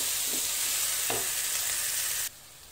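Cabbage and green chilies sizzle in a hot pan with a couple of soft stirring scrapes, a steady close frying hiss that cuts off abruptly near the end.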